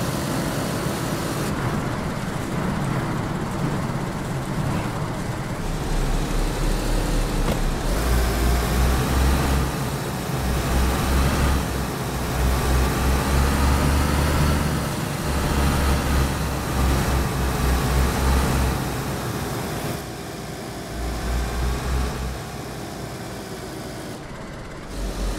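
Car in DayZ driving in fourth gear, a loud continuous engine and road drone with pulsing low rumbles that swell and ease as the vehicle moves, steady throughout with no talking.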